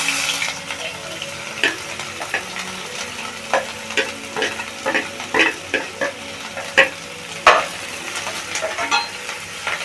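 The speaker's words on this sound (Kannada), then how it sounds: "ಈರುಳ್ಳಿ ಚೆನ್ನಾಗಿ ಸ್ವಲ್ಪ ಫ್ರೈ ಆಗಬೇಕು" Onions frying in hot oil with mustard seeds in a pan while making bun dosa, with a steady low sizzle broken by irregular scrapes and clinks as a spoon stirs them, close and clear.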